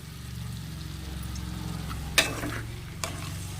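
Ivy gourd pieces and tomato with turmeric frying in a pan, stirred with a steady close sizzle and a couple of sharp scrape clicks from the utensil.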